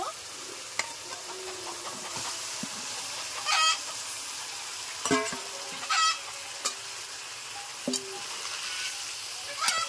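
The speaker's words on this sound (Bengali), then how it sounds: "দিয়ে দিচ্ছি অল্প চিনি, দিয়ে দিচ্ছি ম্যারিনেট করে রাখা মাংস," Marinated chicken fries in a pan with a continuous sizzle, while a spatula stirs and scrapes in repeated bursts and a few sharp metallic clinks ring out.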